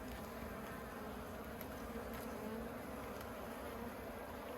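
Honey bees buzz around an open, previously abandoned hive now holding captured swarms, a dense continuous drone close by and steady with no pauses.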